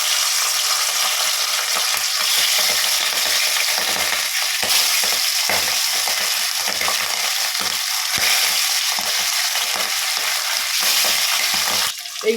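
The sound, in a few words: hilsa fish pieces frying in hot smoking oil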